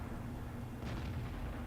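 A tank cannon shot lands on an enemy vehicle in the World of Tanks video game: a single muffled boom partway through, heard over a steady, loud engine rumble and background din.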